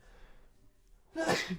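A single sharp sneeze bursts out during a podcast recording near the end after a moment of quiet, close and fairly loud.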